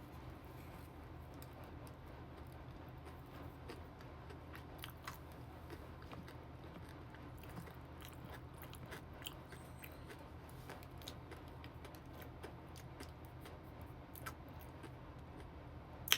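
Dubai chewy chocolate filled with pistachio kanafe being bitten and chewed up close, giving soft, steady crunching and squishy mastication with small crackly snaps, quiet and continuous with no talking.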